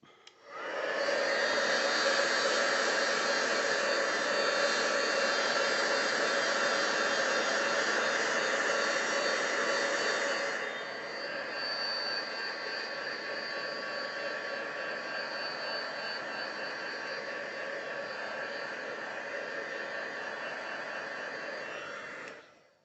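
A hair dryer blows steadily on paper craft cutouts for an ocean-themed die-cut card, a loud continuous whoosh that drops slightly in level about halfway through and then runs on evenly until it cuts off.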